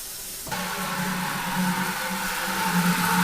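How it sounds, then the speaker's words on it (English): Star San sanitizing solution fizzes and bubbles during wine making from fruit concentrate: a sudden onset of steady, close hissing froth that carries on evenly with no voices. "the Star San sanitizing solution makes a lot of bubbles. And you can see that it's fizzing up and bubbling pretty good in there"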